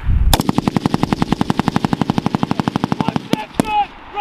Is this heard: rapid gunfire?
yes